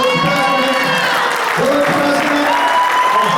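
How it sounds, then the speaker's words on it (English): Audience applause at a political dinner, a dense sustained wash of clapping from a large room, with some cheering and a voice over it. "please give a big round of applause to Jeffrey Fannerstill"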